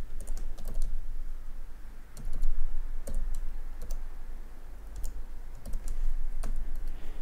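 An SSID being typed on a computer keyboard: quick, close key clicks in uneven runs with brief pauses, and no talking.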